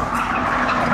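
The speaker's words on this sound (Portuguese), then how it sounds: "vou puxar o freio de mão só pra ver se tá funcionando certinho" A Nissan 350Z prepared for drifting skids through a handbrake turn, tyres screeching loudly and continuously for a brief moment with no talk.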